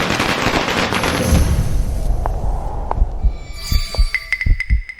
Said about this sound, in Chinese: 我放個鞭炮，給大家沖沖喜